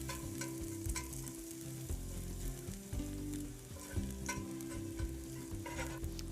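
Minced garlic fries in oil in a pan, a soft, continuous sizzle mixed with repeated scraping and stirring strokes of a utensil.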